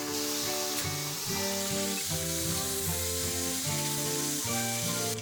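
Thin bacon rashers frying in a smoking-hot pan for a bacon sandwich, a loud continuous sizzle and spatter heard up close with no voices.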